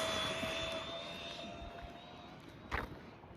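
A Rlaarlo DSK 6S RC car runs off-road at full throttle, its motor giving a steady high-pitched whine that slowly fades, ending with a short sharp rattle near the end.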